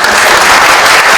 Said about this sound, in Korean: 검사장님을 큰 박수로 맞이해